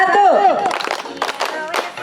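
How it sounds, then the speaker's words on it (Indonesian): A group of people claps hands together at a family gathering, the scattered claps rising after a brief vocal sound and continuing unevenly in close, moderate bursts. "udah tepuk tangan buat kita semuanya"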